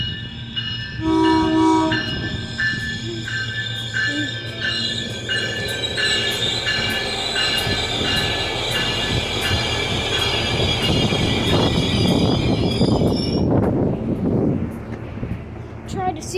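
A Nippon Sharyo diesel multiple unit, unit 105 leading, passes southbound at Cotati with a loud, close rush of wheels and rail noise and squealing, plus sustained horn-like tones through most of the pass before the sound suddenly thins out.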